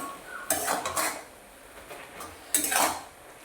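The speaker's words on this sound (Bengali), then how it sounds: "এরপর আমি একটু নাড়াচাড়া করে নিচ্ছি।" Greens for Bengali shukto are stirred in a metal pot, with two short bursts of scraping and clattering about two seconds apart against a quiet background.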